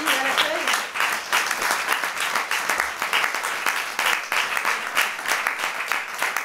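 Applause from a theatre audience for the stage manager after a complete show, a crowd of clapping hands sustained throughout.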